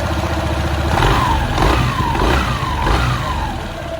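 A motorcycle engine after repair with new parts fitted, revved up and released several times in quick succession during a sound check, loud and close with no talk.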